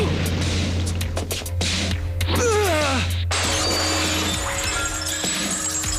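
Glass shattering in a Tagalog-dubbed anime fight scene from Flame of Recca, a sharp crash of breaking glass with tinkling shards amid dramatic sound effects and a steady low hum, no talk.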